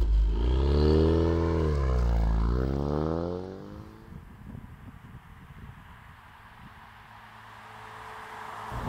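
A 2020 Ford Mustang EcoBoost HPP with its 2.3-liter engine pulling away: a loud rising rev that climbs through the gears for a few seconds, then settles into a quieter cruising hum with road and wind noise.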